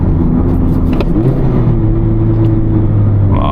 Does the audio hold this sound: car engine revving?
yes